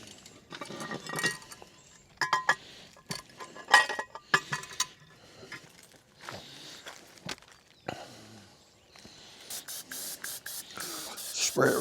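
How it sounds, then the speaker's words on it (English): A spray can hisses in several short bursts at a campsite while cooking crescent dough, mixed with footsteps and the clink of utensils and pans, close and fairly quiet. "Spray it real good again."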